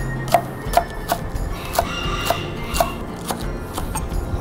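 Green onions are chopped with a knife on a cutting board, a series of crisp, evenly spaced taps close by, with faint kitchen noise beneath.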